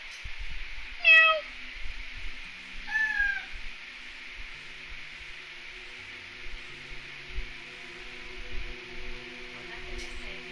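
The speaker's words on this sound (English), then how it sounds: "Say meow to hear a random cat." Two recorded cat meows played back through an Alexa smart speaker, clear and close, the second softer, with faint background hum and occasional light knocks.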